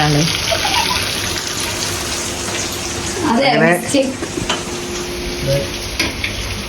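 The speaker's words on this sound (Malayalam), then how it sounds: "ഇതാണ് കുക്ക് ചിക്കൻ പൊരിക്കുന്നു" Loud, continuous sizzling of masala-marinated chicken frying in a pan, with stirring clatter partway through and a person talking briefly over it.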